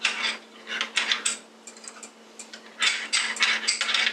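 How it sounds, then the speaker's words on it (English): Squirrel formula stirred in a small container with a utensil, bursts of quick scraping and clinking against the sides, close and fairly loud, with brief pauses between strokes. "I'm going to give it a better stir here."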